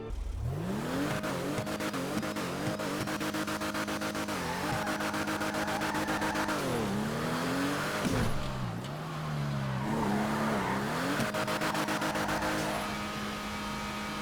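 A Benefactor Vorschlaghammer sports car engine in GTA Online revs and climbs through gears repeatedly, loud and close, with pitch rising and dropping at each shift and no talking.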